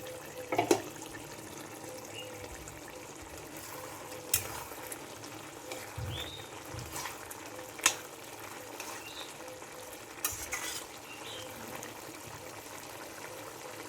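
Bottle gourd pieces and prawns simmering in a covered pan with a little water: a steady, soft bubbling and sizzling hiss throughout, punctuated by a few sharp clinks and knocks of utensils, no voices.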